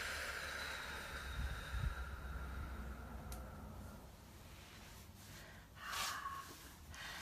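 Slow, soft breathing during a solar plexus chakra balancing meditation, faint against a quiet room, with a fuller exhale near the end.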